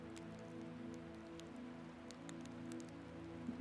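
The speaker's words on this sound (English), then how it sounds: "The rain outside grows steadier" Steady rain falls outside at night, a soft, even patter with scattered drop ticks, faint and continuous with no voices.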